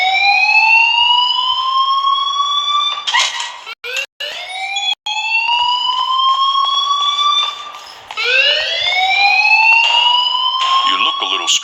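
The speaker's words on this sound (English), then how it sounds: "please turn off that alarm" A fire alarm blares in the Life is Strange video game, a loud, repeating rising electronic wail that continues almost without pause except for a few brief cutouts.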